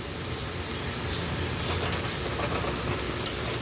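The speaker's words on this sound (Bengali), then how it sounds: "মশলাটা দিয়ে ভালো করে কষিয়ে নিতে হবে।" Ground ginger-cumin paste with turmeric and chili powder sizzles and crackles in hot oil in a pan as prawn chorchori is cooked, a dense, steady frying hiss with no talking.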